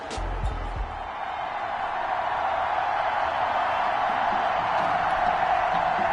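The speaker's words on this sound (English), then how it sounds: "the crowd is loud and on its feet as Ricky Sutherland gets things started." A stadium crowd in the American football video game Madden 21 roars steadily, a dense, loud sustained cheer that builds slightly over several seconds after a few thumps at the start.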